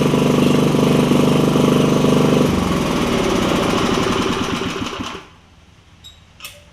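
The Briggs engine on a 50-year-old Wizard tiller with a bad ignition coil runs loud and close with a fast, rattling putter, shifts its pitch partway through, then dies away into near silence.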